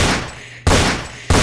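Two loud, abrupt gun blasts about half a second apart from a gun in a cartoon scene, each burst sharp and broad, then trailing off quickly.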